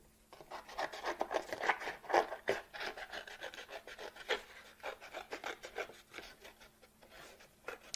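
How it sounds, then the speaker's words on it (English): Close, steady rasping and snipping of blades through paper, a busy run of short cuts that rise and fall without pause, no voices. "we're going to take our scissors and snip it out"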